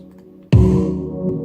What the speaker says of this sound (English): Let me see if I can play that kick by itself.